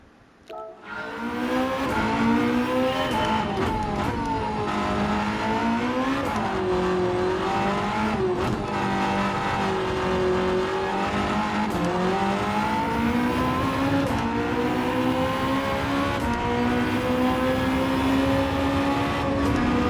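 A hypercar engine in Gran Turismo 7, driven in VR, revs loud and close throughout, its pitch rising and falling through repeated gear changes, with occasional tyre squeal and no talk.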